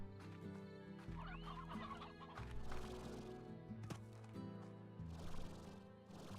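Stony hens in the video game Slime Rancher cluck in short, scattered bursts over a steady, low musical background, fairly close and faint overall.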